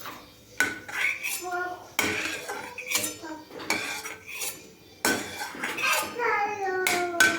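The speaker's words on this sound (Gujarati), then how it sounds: "આ રીતે આપણે બધી બદામ કાઢી લઈશું" Fried almonds scooped out of a pan with the gas flame switched off. A metal spoon scrapes and clinks against the pan in repeated sharp, close strokes, with short pauses between scoops.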